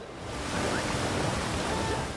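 A waterfall in the video game Super Mario Odyssey, a steady broad rushing roar of falling water that swells slightly and holds constant throughout.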